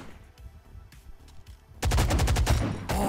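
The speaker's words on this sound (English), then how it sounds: "he got me with a shotgun!" Heavy shotgun blasts in the game Mini Royale boom out in a sudden loud cluster of rapid shots after a quiet stretch of faint, scattered sounds.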